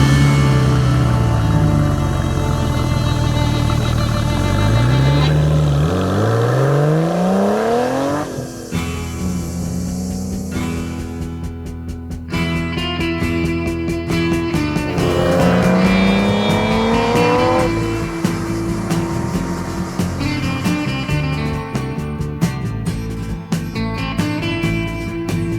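Porsche 993 Turbo flat-six engine while driving in the countryside, revving up and down through the gears with rising and falling pitch, loud and close, with a brief tire squeal and no talking.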